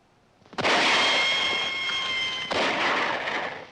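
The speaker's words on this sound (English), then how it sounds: "That's rifle fire." Rifle fire in an old police drama: one loud sharp shot cracks and rings on, then a second report follows about two seconds later, both close and alone with no talk.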